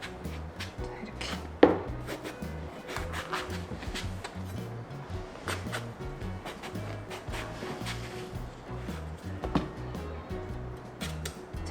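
A knife slices through a whole eggplant on a cutting board, trimming off the base with one sharp cut followed by steady scraping and soft board knocks. Cooking sounds stay close and moderate in level, with no speech.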